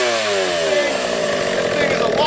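A two-stroke chainsaw engine roars loudly and steadily after being pull-started, with a rising pitch and no speech over it.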